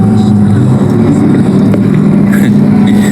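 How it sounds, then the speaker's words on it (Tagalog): A motorcycle with a loud, noisy exhaust revs nearby, producing a constant, rough engine roar with faint voices in the background. "Ang ingay naman namang motor na yun. Di ba bawal yung maingay na tambucho?"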